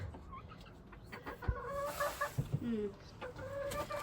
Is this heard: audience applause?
no